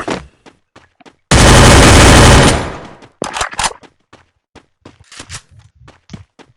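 Automatic gunfire from the Free Fire video game erupts in a loud sustained burst lasting over a second, surrounded by scattered single shots, footsteps and game clicks, near and harsh.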